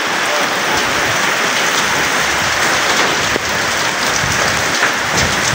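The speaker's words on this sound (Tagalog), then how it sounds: "nabasa ako sa ulan" Steady rain falls outdoors in a broad, continuous hiss of drops on surfaces, loud and close, with no voices.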